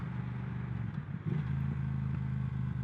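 Triumph Thruxton 1200 motorcycle engine braking during a downshift while coming to a stop, a steady close, loud low rumble with a brief dip and surge as the gear changes.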